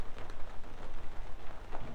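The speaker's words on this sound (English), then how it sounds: "It's raining outside." Rain patters steadily on the fabric of a geodesic dome tent, a dense close drumming of drops that continues throughout with no voices.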